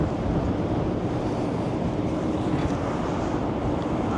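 Strong wind buffets the microphone on the open deck of the cruise ship Celebrity Summit in a constant, loud roar with a low rumble underneath, no voices present.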